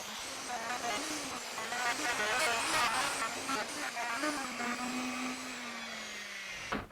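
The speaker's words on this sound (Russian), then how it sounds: "Фрезер у меня мощный, чтобы не было прижигов." A powerful wood router spinning at about 4000 rpm cuts across an end-grain cutting board, giving a loud, steady motor whine with gritty cutting noise that slowly drops in pitch and winds down at the end.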